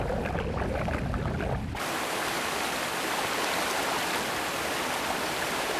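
Rushing water pours over a river weir in a dense, continuous roar, heard up close and unbroken, with a brighter hiss after a shift in perspective partway through.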